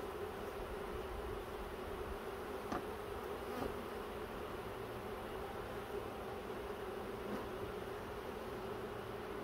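Honey bee swarm buzzing steadily around a hive box after a swarm catch, a dense continuous hum that stays even throughout with a few faint clicks, no voices.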